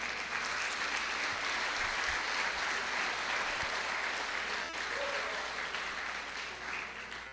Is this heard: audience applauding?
yes